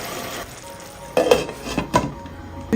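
Onions cooking in oil in a pan are stirred with a utensil, giving a soft frying sizzle under a few sharp scraping clinks against the pan.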